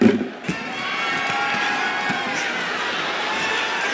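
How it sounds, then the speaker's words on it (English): Arena crowd roaring and cheering continuously at a steady loud level during a WWE 2K25 video game wrestling match, with a few brief sharp hits early on. "The crowd is going absolutely crazy right now."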